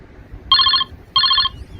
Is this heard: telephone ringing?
yes